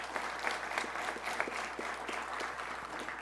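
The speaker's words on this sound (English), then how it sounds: "Let's give them a round of applause before you even know who they are." Audience applause at a police promotions ceremony, a steady wash of many hands clapping throughout, moderately loud with no voices over it.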